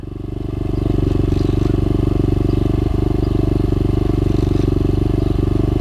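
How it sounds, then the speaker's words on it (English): A 125cc SSR or Xmoto pit bike engine rises to a steady, loud idle just after starting, a close, even single-cylinder putter with faint clatter over it. "As you saw, that was the first kick of the bike. Bike starts right up."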